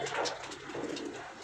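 A pet pigeon with feathered feet and pearl eyes, kept among young birds, coos softly and continuously at close range, with no talk over it.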